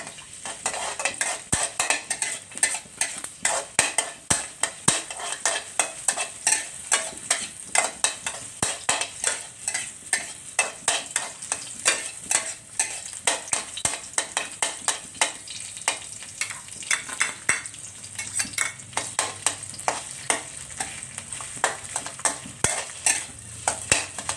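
Garlic frying in a pan for a Thai quail stir-fry, a constant close sizzle punctuated by a fast, regular clatter of a metal spatula scraping and tapping the pan, with no voices.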